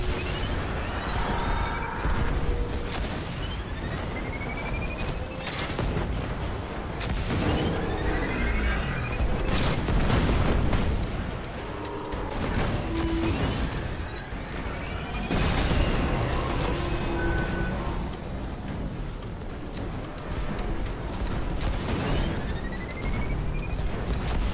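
A walker's charge cannon fires in a sci-fi video game battle, heavy booms and crashing blasts recurring every few seconds over a constant loud roar of combat, with whooshing shots layered in.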